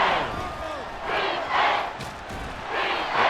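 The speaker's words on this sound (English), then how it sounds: "Crowd getting in it a bit already" A stadium crowd in the Madden NFL 24 football game swells and roars in several waves, loud but a little diffuse, with brief quieter dips between the surges.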